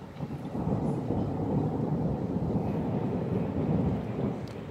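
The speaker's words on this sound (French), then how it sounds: "l'orage s'éloigne très très rapidement" Thunder rumbles from a moderate hailstorm passing over Le Mans, France, in May: a steady, deep, rolling roar that lasts throughout, with a faint hiss of rain and no voices.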